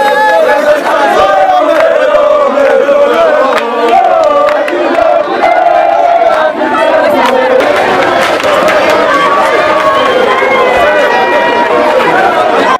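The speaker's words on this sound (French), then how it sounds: "Devant toute une foule en euphorie, le message est resté le même et la joie des uns et des autres remarquable." A large, euphoric crowd at a welcoming reception in the DRC fills the air with dense, continuous chatter and cheering voices, loud and sustained throughout with no pauses.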